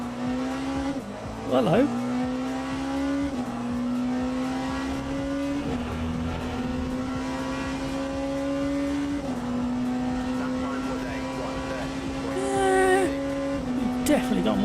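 Porsche race car in Le Mans Ultimate, its engine droning steadily and close with rising revs and gear-change dips, brief tire squeals near the start and end, and someone speaking briefly over it.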